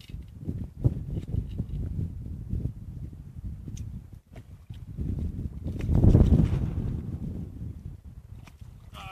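Wind blows across the microphone beside a Sierra Nevada trout-fishing spot, a low, rumbling buffet that swells and fades with a stronger gust partway through; no voices.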